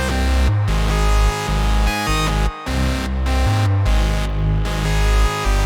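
Synth lead melody playing over an 808-style bass pattern in a high-energy FL Studio trap beat, loud and full, with rhythmic gaps where the beat briefly drops out.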